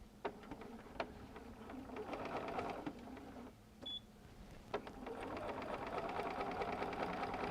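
A Bernina sewing machine stitching fabric for Christmas stockings, a quiet, rapid mechanical whir with ticking needle strokes, pausing briefly before running on steadily, close and alone.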